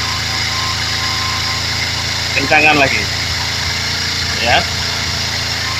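A Kawasaki Z250FI motorcycle engine idles after a throttle position sensor adjustment, holding a steady, close hum throughout while a voice speaks briefly over it.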